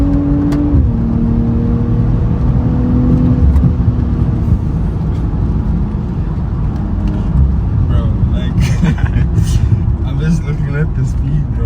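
A BMW M340i accelerates at speed with a loud, continuous engine and road roar, a rising tone at the start that settles into steady rushing noise.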